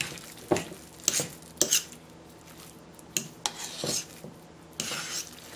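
Cooked potatoes being mashed with added ingredients for loaded potatoes, giving soft scraping and clinking of a utensil against the bowl in irregular bursts, close and fairly quiet, with no talking.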